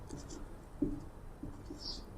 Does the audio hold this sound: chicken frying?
no